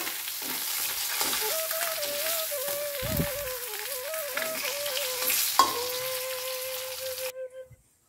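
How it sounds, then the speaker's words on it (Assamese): Fish sizzles steadily in hot oil in a home kitchen pan, a dense close crackle with a stir partway through and a thin tonal whine running over it until the sound cuts off. "এয়া মাছ ফ্ৰাইখিনি হৈ গ'ল হাফ ফ্ৰাই কৰিছোঁ"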